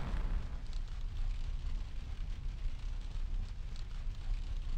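Fire spreads through a building in GTA San Andreas, a dense, steady roar of crackling and hissing flames that fills the scene without a break.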